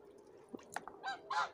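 A domestic goose, the flock's lead gander, gives a few faint calls and then two louder, drawn-out honks close together near the end, over a quiet background with no talking.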